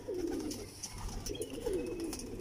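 A breeding pigeon cooing, soft repeated throaty coos in a steady rhythm, close and quiet, with faint background noise and no talking.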